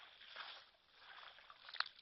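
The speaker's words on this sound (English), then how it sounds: "an elephant throwing water on itself" An elephant bull in the African bush splashes water and muddy sediment over itself, a faint, muffled sloshing and squishing that swells and fades, with a brief sharper splash near the end.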